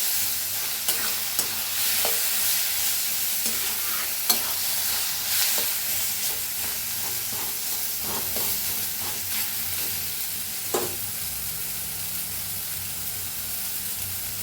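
Brinjal mash for baingan bharta roasting in a pan, a steady close sizzle and frying hiss with occasional stirring scrapes and clicks throughout.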